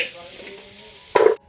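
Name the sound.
fried garlic being put into a cooking pot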